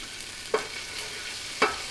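Garlic fries in a pan, giving a soft, steady sizzle broken by two sharp scraping stir strokes about a second apart, close and alone with no talking.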